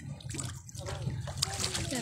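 Water splashes and sloshes as someone swims in the sea at Pioduran, Albay, close and lively beneath voices speaking throughout.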